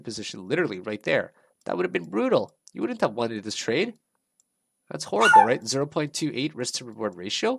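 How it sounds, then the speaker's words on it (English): A pet dog yips and barks indoors while someone talks steadily over it, the short high bursts mixed into the speech. "Sorry about my dog there."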